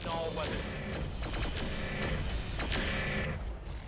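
Mech weapons firing together in RogueTech, a BattleTech video game: a loud, dense volley of shots, crashes and metallic impacts running steadily throughout, with a sharp burst near the end.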